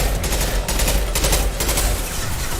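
Rapid SMG gunfire in the video game Mass Effect 2 Legendary Edition: a dense, continuous burst of automatic shots, loud and close, with no talking over it.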